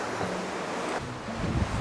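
Cool sea wind and surf at the Bang Pu seaside resort in Samut Prakan, heard as a steady, close rushing of wind over the microphone with the low wash of waves beneath, and no talking.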